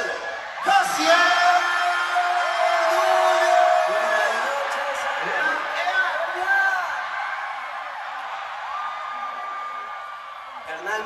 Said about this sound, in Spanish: quiero que se escuche fuerte el grito de recibimiento para Jaciel